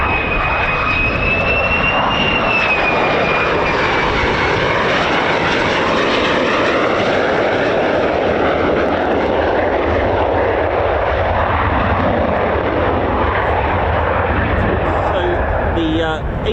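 US Air Force F-15 or F-35 fighter jet passing low over RAF Lakenheath, a loud sustained roar swelling and shifting in pitch for the whole stretch while a voice talks underneath.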